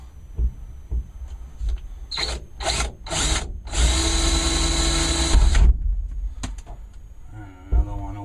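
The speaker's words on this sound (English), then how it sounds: "And I have my handy dandy drill." Handheld power drill whirring in several short bursts, then one longer sustained run, close and loud, with faint knocks between, while mounting a CB radio.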